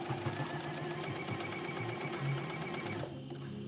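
Sewing machine stitching a narrow zigzag, a fast steady mechanical whir with rhythmic clatter close up, running continuously before easing off near the end, with no talk.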